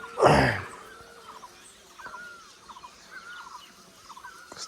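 Small birds chirp in short, faint, repeated calls around a rural farmhouse in Chanaute, Nepal, after a brief loud burst of noise at the start.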